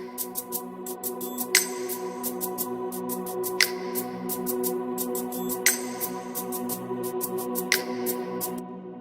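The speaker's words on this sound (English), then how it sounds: "So I have this drum pad." A steady, sustained synth pad tone holds throughout, with a bright, percussive tick-like loop repeating over it in an even rhythm.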